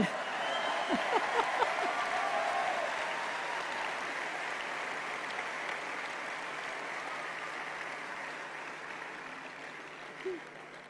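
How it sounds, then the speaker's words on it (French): An audience at a political speech by Ségolène Royal in Rouen claps in a sustained wave that swells early and slowly fades, with a few faint voices underneath. "Vous pouvez applaudir aussi."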